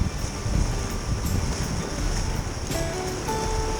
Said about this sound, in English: Trying to reduce splash.